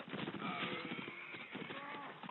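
Cavalryman's horse hooves in the Mount & Musket video game, a rapid clip-clop gallop running steadily through the clip, mixed with game noise and a voice talking over it.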